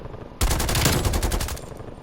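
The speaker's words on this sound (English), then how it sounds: "they just stand there and shoot at you" Black Ops Cold War multiplayer gunfire, a sudden loud automatic burst that rattles continuously for over a second before tapering off, with no talking.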